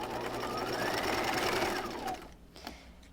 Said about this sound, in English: I want to make sure I stitch right on the edge here and then back stitch.